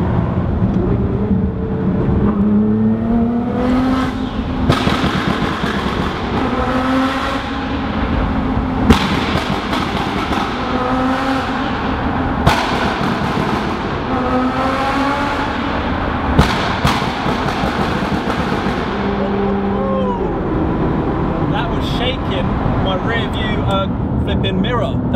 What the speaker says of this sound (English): We've got it in the pops and bang map now,